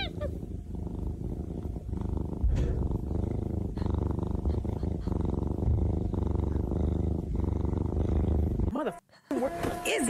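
A domestic cat purrs close up in a steady, rhythmic low rumble that continues almost without pause, with a brief break near the end.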